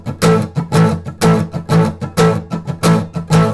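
Electric guitar played with muted power chords in a syncopated 3/2 clave-like rhythm; steady, loud percussive chord stabs repeat in a clear pattern, with no talking.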